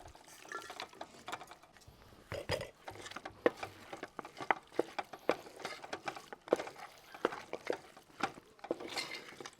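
Jackfruit and beef bones are stirred in a pot for biryani, making quick irregular clinks, scrapes and wet clatters of a utensil against metal, close and fairly quiet, with no talking.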